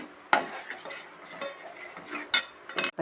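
Rice flour mixture goes into boiling jaggery syrup for paruthi paal and is stirred in a metal pot, giving soft bubbling scrapes broken by a few sharp metallic knocks and clatters, close and without talk.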